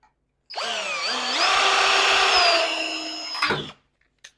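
A power drill drives a screw into bench wood, a single close whirring burst of about three seconds that rises in pitch and then bogs down as the screw seats.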